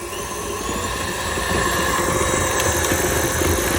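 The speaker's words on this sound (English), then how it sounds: "KitchenAids come into their own when they're for this sort of thing. Whisking and everything, I just love them." A KitchenAid stand mixer whisks cake batter for a Christmas cake, giving a steady, loud motor whir with a rapid churning rattle that continues evenly throughout without pause.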